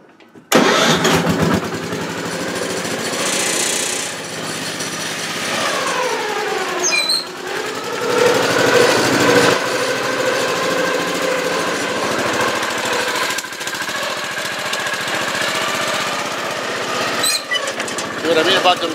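A small engine vehicle in a garage yard cranks and starts, then idles and revs unevenly with a rough mid-pitched drone that continues steadily throughout, close to the listener.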